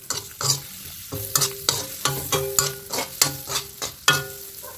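Spaghetti sauce with soy sauce, ketchup, tomato sauce and tomato paste fries in a pan, a soft sizzle under repeated rhythmic scraping strokes of a spatula stirring, close and fairly loud.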